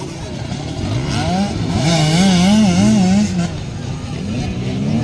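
Motorcycle engines in a children's motorcycle race, revving and wailing with rising and falling pitch as bikes accelerate, loud and fairly close for a few seconds before easing off, with crowd noise behind.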